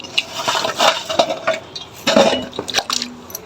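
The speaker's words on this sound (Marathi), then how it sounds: "अशी पाण्यात हे माती हे लागलेली अशी चांगली धुवून घ्यायची।" Fresh turmeric roots are rinsed by hand in a vessel of water to wash off clinging soil, producing close, irregular sloshing and splashing with a few louder swishes and light knocks against the container.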